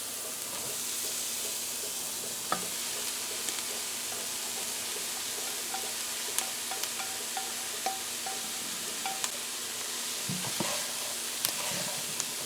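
Cooked rice stir-fried in a hot pan with scallions for veggie fried rice, a constant soft sizzle with scattered light scraping and clicking from stirring, close and steady with no talk.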